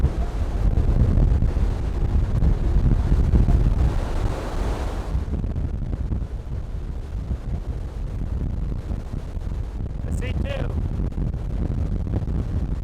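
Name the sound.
wind blowing on a mountainside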